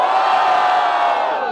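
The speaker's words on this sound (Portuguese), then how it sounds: "Barulho pra quem gostou das rimas do Preto!" A loud crowd cheers and whoops at a street rap battle in Barueri, São Paulo, a dense, steady roar of many voices that holds for the whole moment with no pauses.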